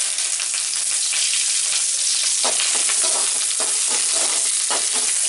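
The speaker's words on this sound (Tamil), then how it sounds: "சீரகம் வந்து நல்லா பொரியணும் எண்ணெயில். கருவேப்பிலை போடுறோம் ரெண்டு கொத்து." Cumin seeds and curry leaves frying in hot oil for a village-style crab gravy: a loud, dense, continuous crackling sizzle close up, with light popping and stirring throughout.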